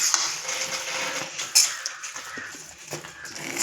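A spoon scrapes and clinks against a pressure cooker while jaggery rice prasadam is stirred until the jaggery melts; light metallic scraping and soft taps, close and fairly quiet, with no talk.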